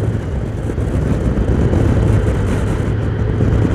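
Steady, loud engine drone of a Honda Goldwing 1800 motorcycle exhaust under throttle while riding on the road, a continuous broadband roar with a low hum throughout and no clear rev peaks.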